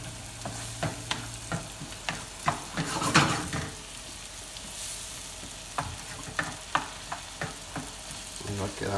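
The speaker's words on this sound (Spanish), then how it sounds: "Dejan que se cocine bien el jitomate" Tomato sauce for camarones rancheros sizzling and frying in a pan, with a steady crackling hiss broken by repeated scrapes and clacks of a spoon stirring, close and fairly loud, no talk.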